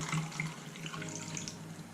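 Water pours steadily into a bottle to top up plants grown in water, a continuous trickling splash with no talk over it.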